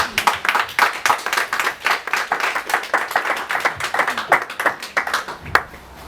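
A church congregation claps and applauds at a Christian service, a dense run of hand claps with uneven rhythm that thins out near the end, fairly close, with faint voices mixed in.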